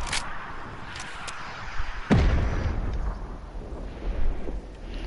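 A single heavy sniper rifle shot in a video game booms out mid-clip with a decaying tail, set against game ambience and a few faint higher clicks.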